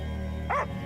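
A dog gives a single short, close bark over a steady background music drone in a dramatic film scene.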